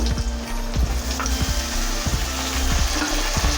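Green chilies, garlic, ginger and tomato sautéing in a pan for chicken dom, with a steady sizzle broken by repeated scraping stirs of a spatula against the pan at a regular rhythm.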